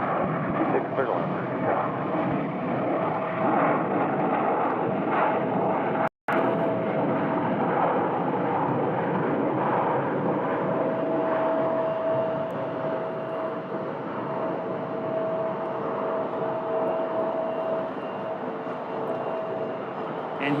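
An American Airlines Airbus A321 at Phoenix Sky Harbor gives a steady, broad jet roar with a faint whine, heard from a distance and holding level for about twenty seconds.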